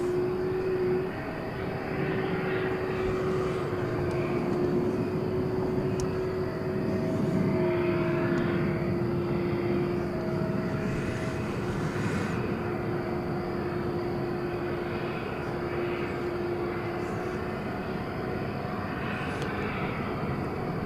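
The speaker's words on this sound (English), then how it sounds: "A 27-year-old example of the 767." A 27-year-old Boeing 767 airliner at DFW Airport at night, heard as a steady, broad engine roar with a faint whine, continuous and fairly distant, without talk.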